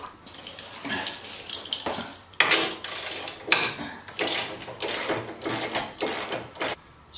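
Wrenches and metal hardware clatter and ratchet while the trunk and bumper guard are unbolted from a 2016 Harley Tri Glide Ultra, giving close, irregular clicks and clanks with sharp metallic knocks throughout.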